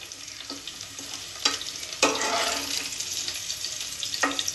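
Vegetable and paneer filling fries in a pan, a soft steady sizzle broken by a few louder scraping stirs and splashes, heard close with no talk.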